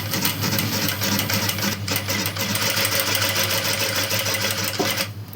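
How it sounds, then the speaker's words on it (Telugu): Sewing machine stitching the neck of an umbrella frock, a steady close mechanical whir with a rapid needle rhythm running continuously, pausing briefly once and slowing near the end, with no talking. "ఇప్పుడు దీన్ని మనం ఇక్కడి నుంచి ఇలా నెక్ కుట్టుకుందాం."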